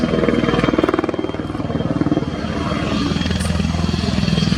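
A PZL-Swidnik W-3A Sokol military helicopter flies close by at an air show display, with a loud, steady rotor chop and a constant engine whine, no voices.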